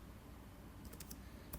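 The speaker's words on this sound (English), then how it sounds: "just normal typing" Quiet, close computer keyboard typing: a few light, quick key clicks clustered near the end over a low steady background hum, with no voices.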